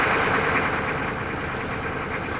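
A 6.5 turbo diesel engine idles just after a cold start following six years of sitting, a steady close, loud knocking rumble with an even clatter and no talk.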